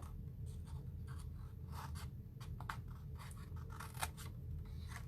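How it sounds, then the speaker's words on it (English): Paper snips trimming mitered corners on cardstock for a sliding gift bag, heard as a quiet run of small, quick snipping and scratchy rustling clicks with no talk, alone against faint room noise. "we're gonna take our paper snips and we're just gonna miter each of these corners"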